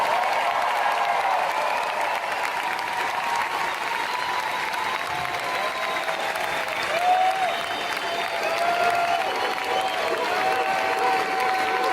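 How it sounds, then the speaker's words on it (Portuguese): An audience of hundreds claps in tribute to Gugu, a dense, loud, sustained wall of applause with some whistles and shouts woven through, steady for the whole stretch. "o pessoal já saiu aplaudindo, eram centenas e centenas de pessoas"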